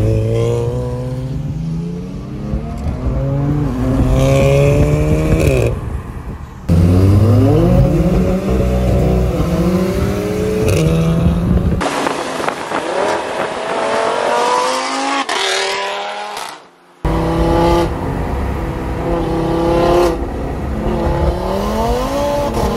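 A Volkswagen Golf R revs hard and accelerates through several gear changes, its loud engine note rising and dropping in repeated sweeps with brief cuts between pulls, close to the microphone.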